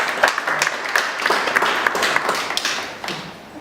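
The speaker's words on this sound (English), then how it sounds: "Round of applause." Audience applause at a community Christmas party, a steady wash of many hands clapping for about three seconds before thinning out toward the end.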